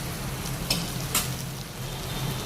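Spice masala frying in hot oil, a steady close sizzle with a couple of brief stirring scrapes, no voices.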